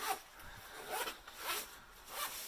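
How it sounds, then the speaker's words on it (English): Quick zipper pulls opening a binder for Lishi lock picks, several short rasping strokes, close and fairly quiet. "I'm just going to unzip real quick."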